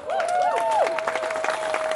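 Applause from a gathered audience honoring volunteer cooks and a grill master, steady dense clapping running throughout, with a sustained whistle-like tone and brief rising squeals sounding over the crowd noise.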